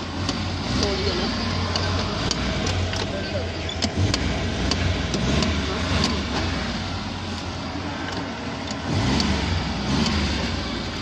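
Suzuki Mehran manual car pulling away during a driving lesson, its mid-pitched engine revving steadily and droning close throughout, with brief clicks and knocks on top and voices talking over it.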